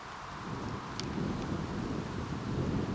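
Wind blows outdoors at the Irish National Stud, a steady low rumble buffeting the microphone for the whole stretch, with no talking.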